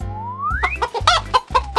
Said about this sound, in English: Kids, do you know which animal goes cluck cluck?